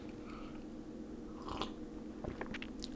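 MRE crackers with peanut butter being chewed close up, a few soft crunches and bites over a quiet background hiss, with no voices.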